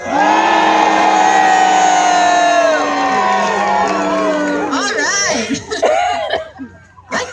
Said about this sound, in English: Let's give it up for Logan Aldine.